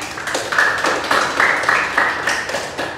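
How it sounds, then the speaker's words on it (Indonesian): Schoolchildren in a classroom clap their hands together in a few quick, rhythmic bursts, close and fairly loud, with no speech over the clapping. "Tepuk tangan dulu teman-temannya."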